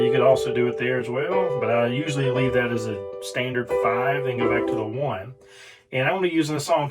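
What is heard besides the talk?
None of the usual background noises is heard.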